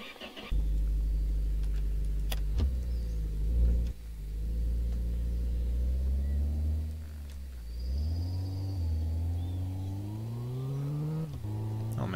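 Car driving along a road in the My Garage survival video game, its engine humming and revving steadily with rising pitch as it accelerates, loud and continuous with no talk.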